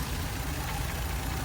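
A three-cylinder car engine idles close by at a car market, a steady low rumble with a faint uneven throb that holds for the whole moment, no voices over it.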